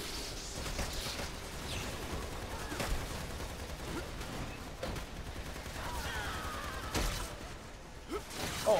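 A rocket launcher fires in the Lost Planet 2 video game, its blasts buried in a dense, continuous wash of gunfire and explosive game noise that stays loud throughout.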